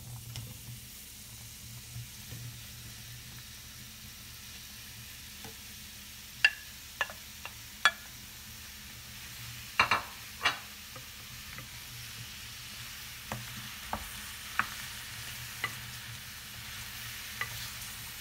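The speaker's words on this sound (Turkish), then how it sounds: "Şimdi tavaya ekliyorum mantarı." About half a kilo of thinly sliced mushrooms frying on high heat in a pan, a quiet steady sizzle broken by occasional sharp scrapes and taps as they are stirred.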